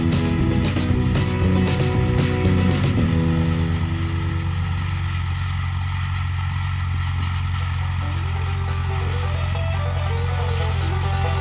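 A Farmall M tractor engine, fitted with a custom hydraulic setup and a 9-speed conversion, runs steadily at idle close by, with a louder rattly burst in the opening seconds before settling into an even drone.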